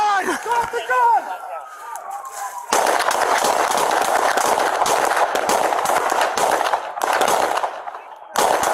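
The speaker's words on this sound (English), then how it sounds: "shots fired, shots fired!" Rapid bursts of gunfire during a police station shootout, loud and dense, crackling repeatedly for several seconds with brief gaps, following shouted commands at the start.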